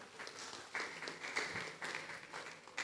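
Students in a school talk-show audience clap, a faint, fairly distant patter of applause that carries on steadily throughout.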